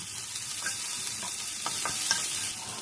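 Finely chopped onion frying in a pan for coconut rice, a steady close sizzle with a few soft stirring clicks.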